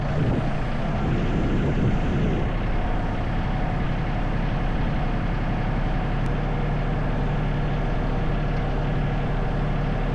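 A farm tractor runs near a barn, its engine giving a loud, steady low drone that holds without pause from start to end, with no talking over it.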